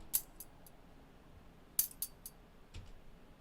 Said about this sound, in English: I even like that little snapback sound